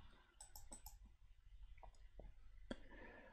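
Sharp, quiet computer mouse clicks sound close by, several in a loose irregular series with brief pauses between, amid faint room noise.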